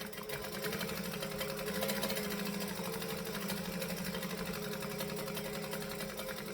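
A sewing machine runs continuously as it stitches a bag, its rapid even needle chatter and motor hum close and steady for several seconds without pause and with no talking.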